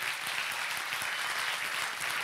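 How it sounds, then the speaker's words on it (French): Audience applause for the teachers at a national school science competition awards ceremony, a steady, dense wash of clapping sustained throughout with no voices on top. "on peut les applaudir tout de suite"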